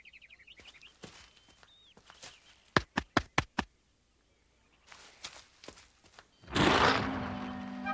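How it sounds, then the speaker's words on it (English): A series of five sharp, evenly spaced wooden knocks on cartoon trees rings out in quick succession, set among faint bird chirps and scattered softer thuds, followed by a loud rushing burst. "Start knocking."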